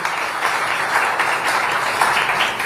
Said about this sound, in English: please give my panelists a big round of applause